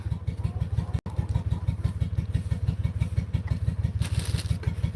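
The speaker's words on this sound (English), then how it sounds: "There's somebody on a tractor outside." A tractor engine running outdoors, a steady low rhythmic chugging throb that holds even and fairly loud for the whole stretch, with a brief dropout near the start and no one talking.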